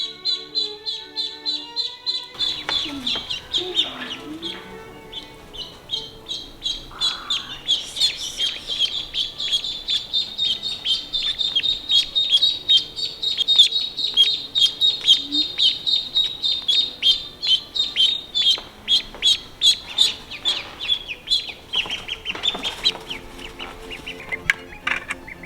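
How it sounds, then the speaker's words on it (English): Ducklings peep in a steady chorus of high, rapid chirps, close and continuous, with no speech over them. "So these are our sweet little ducklings."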